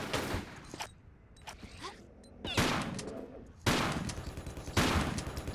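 Enemy sniper gunfire in Tomb Raider IV: The Last Revelation, heard as several loud, sharp shots with reverberant tails, spaced a second or so apart, plus faint mechanical clicks between them.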